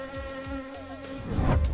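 Bees buzz around a robotic beehive in a steady, close droning hum that swells louder toward the end, with no speech.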